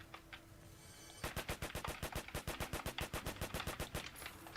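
Uzi firing in the Flag Wars video game: a rapid burst of about twenty sharp, evenly spaced automatic shots lasting nearly three seconds, loud and close, with no talk over it.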